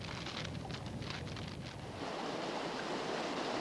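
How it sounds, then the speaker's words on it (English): A mountain stream untreated with lime, running toward an acid lake, gives a steady broadband rush of flowing water, close and continuous throughout, with no voices. "A typical mountain stream which hasn't had any lime added to it, bubbling its way down to one of those acid lakes."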